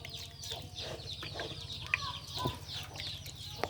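Backyard chickens clucking as they feed on crushed corn kernels, a steady busy chorus of soft clucks and chatter with a few sharper calls, close and continuous.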